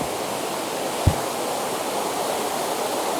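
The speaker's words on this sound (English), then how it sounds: "We have a waterfall right here." Steady, dense roar of a waterfall beneath a covered bridge near Cullman, Alabama, heard from directly above, continuous and close, with one brief low thump early on.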